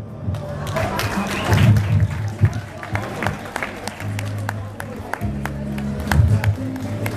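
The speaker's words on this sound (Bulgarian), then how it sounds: "Моля вашите аплодисменти" Scattered clapping from an audience with sharp hand claps throughout, mixed with low music and crowd murmur underneath, at a bridal fashion store opening in Paradise Center, Sofia.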